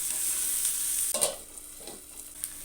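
Soya chunks and ginger fry in a pan while a spoon stirs them, giving a soft steady sizzle broken by a few scraping strokes. The sound is fairly quiet and there is no talk.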